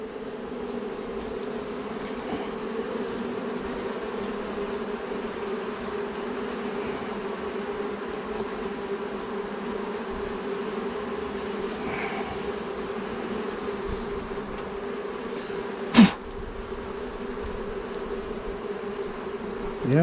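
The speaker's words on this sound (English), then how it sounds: "quieten the bees down again" A continuous drone of honeybees buzzing around an opened Flow Hive, steady and close throughout, with a single sharp knock near the end.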